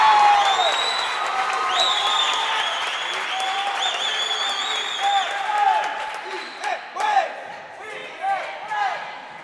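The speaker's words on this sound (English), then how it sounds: "What a crowd. They're really into it now." A racquetball world championship crowd of Costa Rican fans applauds and cheers loudly, with sustained clapping, shouts and whistles swelling in bursts while a commentator talks over the noise.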